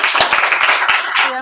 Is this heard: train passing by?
no